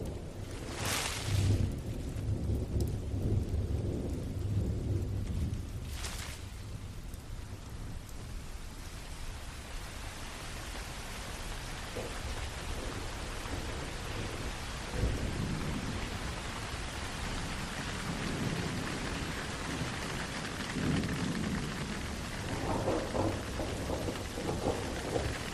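Heavy tropical rain pours steadily in a Sumatran forest thunderstorm, with two sharp thunder cracks early on and low rumbling beneath the constant hiss of downpour.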